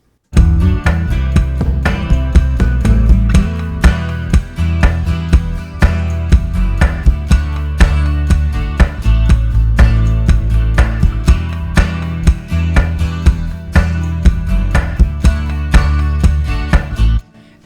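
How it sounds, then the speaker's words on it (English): A full band of guitar, drums and bass, all built from one acoustic guitar, drives through a loud, dense chorus with a steady beat and continuous bass and chords for the whole stretch. "Guitar, drums, and bass together sound like this when we hit the chorus."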